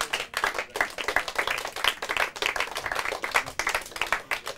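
An audience at a Portuguese-language quiz round claps for a team after the scores are read, a brisk burst of many hands clapping in uneven pulses, moderately close and without voices.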